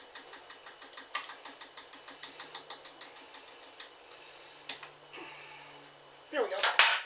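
Egg, oil and milk are whisked together in a bowl for blueberry muffins, a steady run of quick metallic clicks against the bowl that pauses, ends in a brief clatter, and is joined by a faint low hum.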